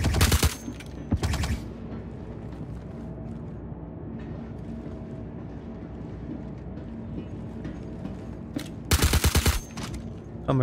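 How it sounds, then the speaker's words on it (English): Automatic gunfire in the Star Citizen video game during a bunker fight, loud rapid bursts at the start and again near the end, with a low ambient hum in between. "he's shooting where he thought I was"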